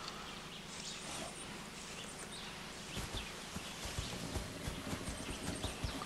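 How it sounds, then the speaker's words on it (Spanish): Horse hooves approach in the Far Cry 6 video game, at first soft and distant under outdoor bird and insect ambience, then a louder run of clip-clop thuds in the second half as the horse nears. "Cuidado que viene uno con caballo por ahí"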